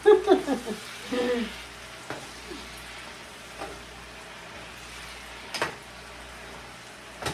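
Mushrooms sautéing in a pan for a Filipino sponge gourd dish, a soft continuous sizzle with occasional clinks and scrapes of stirring, a voice talking briefly at the start.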